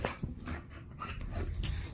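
A pit bull puppy on a sofa during a sudden burst of excited, playful activity, with soft close breathy panting and faint whimpers, quiet and uneven.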